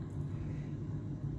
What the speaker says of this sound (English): Have to excuse the traffic noise